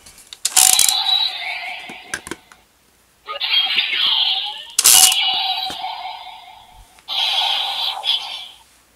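A DX Giga Finalizer toy from Ultraman Geed makes bright electronic whirring bursts, several in a row with short gaps, mixed with sharp plastic clicks and ratcheting as a capsule is loaded and operated.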